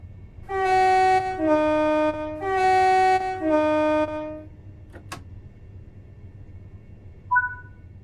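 A Class 375 electric multiple unit in Train Sim World 3 sounds four loud two-tone horn blasts in two pairs, followed by a sharp click and a short high chime over a quiet, low running hum.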